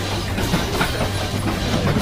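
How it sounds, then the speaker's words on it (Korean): A train running in Mumbai gives a continuous close rumble with a low mechanical drone throughout the short stretch, loud and steady with no speech. "기차, 기차, 이거."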